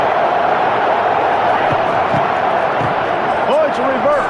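Stadium crowd noise in a college football video game, Nebraska versus Iowa, a steady, dense roar of the crowd with some louder vocal swells near the end.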